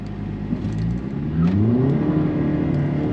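Diesel Volkswagen Jetta TDI launching with tires spinning, a loud close engine note that climbs steadily in pitch as it accelerates hard from a low rumble.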